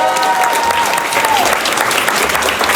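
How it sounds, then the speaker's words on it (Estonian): A studio audience at a comedy dating show claps in a dense, loud, sustained burst of applause. "Teeme talle suur aplausi."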